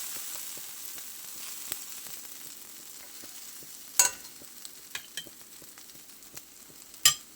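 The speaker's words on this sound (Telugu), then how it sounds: "ఫ్రై అవుతుంది అన్నమాట." Masala fries in a pan on low heat with a soft, steady sizzle, broken by a few sharp spatula taps and clinks against the pan.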